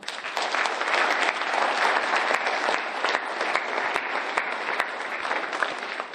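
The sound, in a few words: audience applause at high school event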